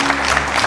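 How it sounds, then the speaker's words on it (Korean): Studio audience applause for an arriving guest on a Korean TV talk show, a brief dense burst of clapping close and loud. "이영수 명장님을 여러분 뜨거운 박수로 맞아주시겠습니까?"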